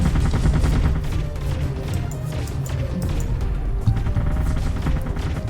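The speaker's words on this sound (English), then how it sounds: "It fires 5 incendiary armor-piercing rounds per second in 5 round bursts." A machine gun sentry in the video game Artificial Extinction fires incendiary armor-piercing rounds in short bursts. The shots are loud, dense and rapid and overlap without a break.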